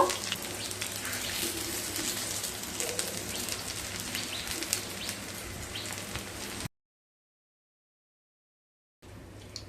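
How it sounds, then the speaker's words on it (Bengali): Vegetable prawn pakoras deep-frying in hot oil, a steady close crackling sizzle that runs for several seconds and then cuts out abruptly before resuming faintly. "এইভাবে সমস্ত পকোড়াগুলোকে ভেজে নেবো"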